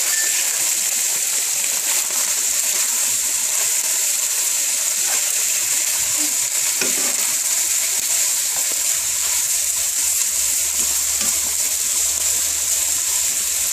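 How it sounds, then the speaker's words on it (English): Beef and onions stir-fried on high heat in oil for hibachi fried rice, giving a steady broadband sizzle across the whole stretch with faint scraping and clinks now and then. "It's helping the beef caramelize and fry nicely"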